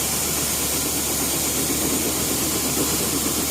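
New Holland CR920 combine running steadily while pumping grain out of its unloading auger, a continuous loud mechanical roar and hiss with no breaks or talk.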